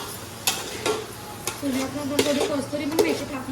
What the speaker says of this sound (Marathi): आता त्यांना ढवला ढवल केली जाते